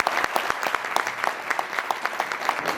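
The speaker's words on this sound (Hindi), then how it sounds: "आप एक बार ज़रूर ताली बजाएं" Guests at a sangeet ceremony clap together in a brief burst of close, lively applause, individual hand claps audible in a quick uneven rhythm.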